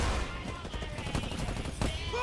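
Sniper fire in a multiplayer shooter game, with gunshots crackling through a dense, busy game soundscape and a sharper report near the end.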